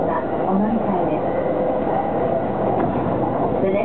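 A JR Yamanote Line train running in Tokyo, heard from onboard as a steady, dense rumble and hiss with no breaks and faint rail noise throughout, and no voices.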